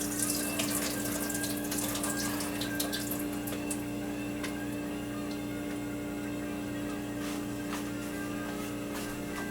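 Water runs steadily from a kitchen faucet into the sink while something is drained, a constant close rush with faint clinks and splashes on top, and no talking.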